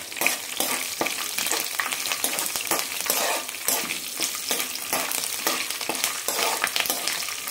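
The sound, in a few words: curry leaves and chillies frying in oil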